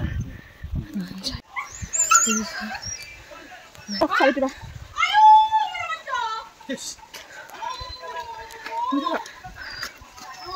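A dog on a hillside gives short barks and high whimpers, scattered among people talking nearby and other outdoor background sounds.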